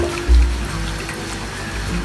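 Water draining out of the first chamber of a simple fish pond filter, a soft continuous trickle with a brief louder gurgle near the start, fairly close and steady throughout.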